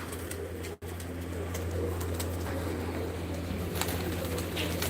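Female pigeons perched in a row inside a loft coo softly, a steady low murmur of several birds over a constant background hum, with a brief dropout near the start.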